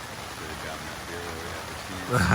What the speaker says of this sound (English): All right, the rain is picking up on us here.